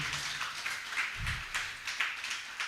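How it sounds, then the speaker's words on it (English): Light scattered clapping from a small audience at a menstrual hygiene day event, thin and brief, a few people tapping hands unevenly rather than full applause. "So a big hand clap to the men in the room."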